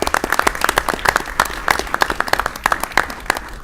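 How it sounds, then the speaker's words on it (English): A school board meeting audience claps in a quick, uneven patter, individual hand claps distinct and fairly close, sustained throughout without voices. "Yes, give her a round of applause."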